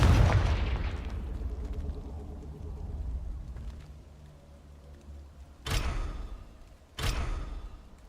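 Confringo fire spells burst in Hogwarts Legacy: a deep booming explosion with a rumbling tail opens, followed after a lull by two more sharp, loud blasts, each dying away quickly.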